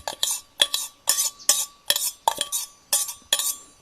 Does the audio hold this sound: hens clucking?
no